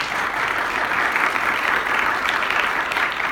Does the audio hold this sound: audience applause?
yes